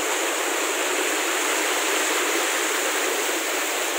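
Waterfall at Sungai Lepoh in Hulu Langgat, a steady, loud broadband rush of falling water that holds unbroken and close for the whole stretch, with no voices.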